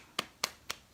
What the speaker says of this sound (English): applauding